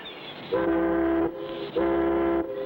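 Two short whistle blasts from a fishing boat sound in a 1959 cartoon, each steady and tonal, lasting under a second and separated by a brief pause, loud and near with no talk over them.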